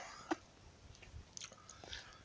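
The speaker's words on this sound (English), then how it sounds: "Sorry if I'm chewing gum" Gum being chewed near the microphone gives soft, wet, irregular mouth clicks and smacks, with one sharper snap early on and faint murmuring in between.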